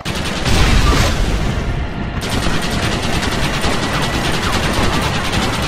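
Sustained loud gunfire in Red Dead Redemption as barrels are shot, with a heavy boom near the start and continuous rapid shots after it.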